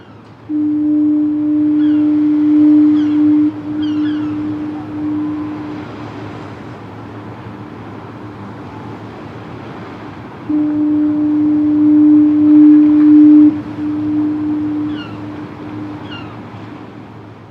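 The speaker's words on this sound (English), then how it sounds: "the foghorn can also bring comfort to those standing at the shore" A deep, loud foghorn blasts twice, each long low tone holding for several seconds over a steady background rumble.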